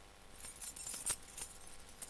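Keys jangle and clink at a door being unlocked during a 1960 stage production, a quiet metallic rattle with a few brighter chinks, no talking.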